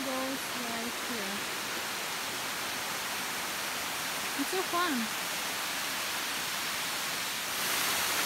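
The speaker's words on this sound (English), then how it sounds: "The waterfall goes right here." Bua Tong Sticky Waterfalls near Chiang Mai, Thailand, give a constant broadband rush of falling water up close, with people briefly talking over it.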